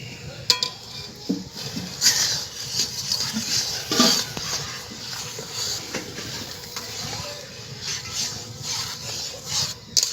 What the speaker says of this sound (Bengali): এবার অল্প অল্প করে সুজি দেবো আর নাড়তে থাকবো।